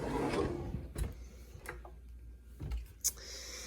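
A kitchen baking drawer sliding open or shut, giving a few short, sharp wooden knocks and rattles spread across a few seconds, close by and moderately loud against a quiet room.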